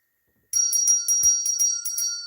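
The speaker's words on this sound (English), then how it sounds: "we're ringing the bell for Debs." A small hand bell rung in a quick series of about eight bright, ringing strikes after a brief silence, clear and close with no talking over it.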